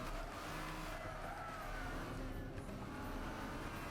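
A Mercedes SLS AMG race car engine roars steadily at high revs in a pack with BMWs, a dense, continuous drone of racing engines with some tire noise, loud and unbroken throughout.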